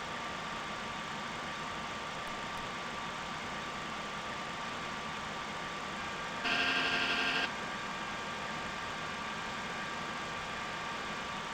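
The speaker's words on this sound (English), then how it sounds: "The engines will throttle back." Steady, loud jet engine drone of an MD-80 airliner in the Prepar3d flight simulator, throttling back on approach, a continuous broadband roar with a brief harsh tonal burst partway through.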